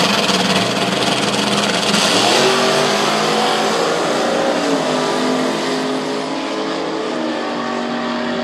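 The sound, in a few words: drag racing car accelerating down the strip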